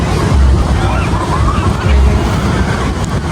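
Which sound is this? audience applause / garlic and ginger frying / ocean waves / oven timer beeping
ocean waves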